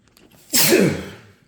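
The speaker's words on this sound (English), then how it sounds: "gotta sneeze" A single sharp sneeze bursts out close to the mic after a moment of near silence, then trails off quickly.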